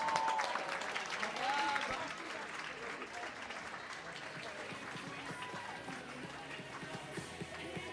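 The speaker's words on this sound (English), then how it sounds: "Let's give them a big round of applause." Applause from a crowd at a jump rope championship event, quiet and somewhat distant, with voices and arena noise mixed in, louder in the first two seconds.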